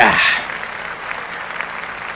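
Applause sound effect on a podcast, a short burst of clapping and cheering that starts loud and thins out quickly, with voices talking over it.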